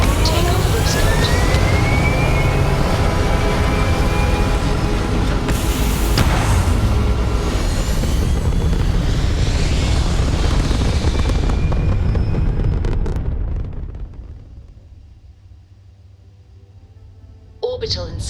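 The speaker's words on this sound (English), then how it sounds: "Pressure holding. Takeoff looks good." A spaceship takes off in the video game Starfield with a loud, sustained roaring rumble and rising whine that fades away toward the end, followed by a quieter hum.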